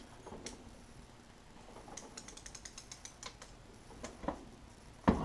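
A wrench ratchets on DeLorean transmission bolts in a series of quiet, rapid mechanical ticks, ending in a sharper, louder click near the end, close up and with no talking.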